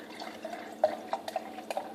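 Unsweetened Waitrose English Vintage cider poured into a glass, a faint, close trickle with small splashy drips and clinks spread across the pour.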